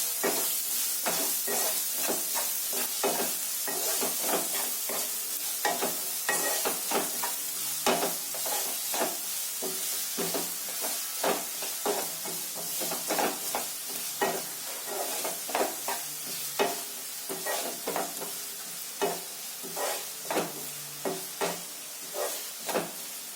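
Onions with salt sizzling in a pan for a moong dal gravy, a continuous close hiss punctuated by rapid, regular stirring scrapes of a spoon against the pan, no voices.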